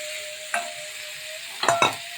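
Tomatoes and fried potatoes frying together in a pan for an Ekadashi potato fry make a soft, steady sizzle, broken by a spatula stroke and a couple of quick stirring clinks near the end.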